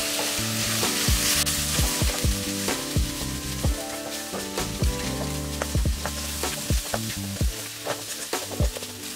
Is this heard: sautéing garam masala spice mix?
yes